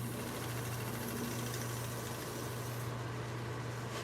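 A wood lathe turns a plate at about 800 RPM, a steady low motor hum with a constant whirr that runs unbroken throughout, with no talking.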